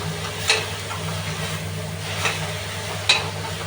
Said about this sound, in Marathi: बघा आता हा कांदा आणि टमाटा यामध्ये चांगला असं एकदम शिजू द्यायचं तेलामध्ये